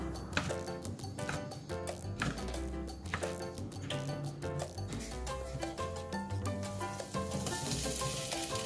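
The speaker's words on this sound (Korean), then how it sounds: "보통 어묵이라 한번 볶아서 무쳐줄게요." Korean fish cake pieces, cut roughly finger-sized, stir-frying in a pan: a continuous close sizzle with rapid scraping and tapping of the utensil throughout, and no talking.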